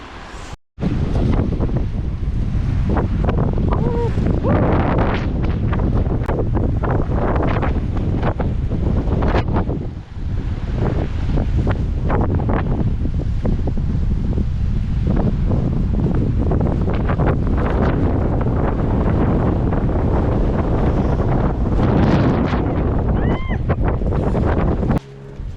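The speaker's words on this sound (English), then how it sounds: "I don't know if you can hear me because of the wind." Strong wind blows across a pond on a day hike, loud gusting roar buffeting the microphone continuously with brief lulls, drowning out any other sound.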